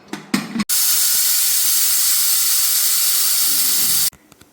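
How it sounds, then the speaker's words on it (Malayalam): Pressure cooker of potatoes in salted water on a gas stove vents steam through its whistle: one loud, steady hiss lasting about three and a half seconds, starting and stopping abruptly, with no talking. "നമ്മൾ കുക്കറിൽ 3 വിസിൽ വന്നിട്ടുണ്ട്"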